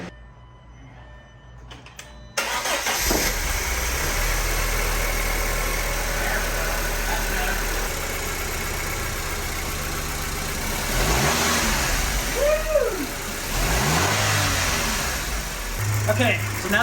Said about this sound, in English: now that the engine's started, I'm gonna let it run for about a good 15 to 20 minutes